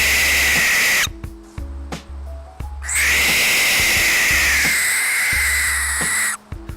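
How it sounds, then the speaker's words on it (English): Barn owl screeches in long, harsh hissing bursts, two extended shrieks loud and close, separated by brief gaps with low rumbling background. "barn owls make some terrifying noises."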